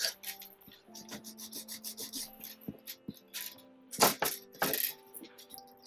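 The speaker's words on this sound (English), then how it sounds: "Let's do a little bit of filing as we go" A metal file rasps against wire earring parts in quick, uneven strokes, close and crisp, with a few louder scraping bursts near the end.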